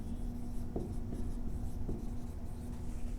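A pen scratches and taps on a board during a biology lecture, with faint intermittent strokes and a couple of light taps over a steady low room hum, no voices heard.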